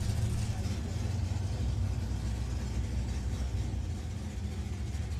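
A supercharged 392 Hemi hot rod coasts down the shutdown area at Santa Pod Raceway during a hot rod drag meeting. Its engine gives a steady, low, moderately distant rumble with broadband road and ambient noise.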